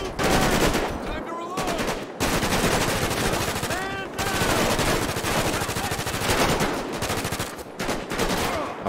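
Sustained automatic gunfire from a GTA 5 shootout rattles rapidly and loudly almost without pause, with brief gaps and voices shouting over it.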